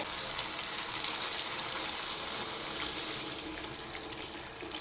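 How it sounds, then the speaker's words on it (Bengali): Water is poured into a pan of fish curry with greens, a steady continuous gush close at hand with no voices. "এবার পরিমাণ মতো জল দিয়ে দেব।"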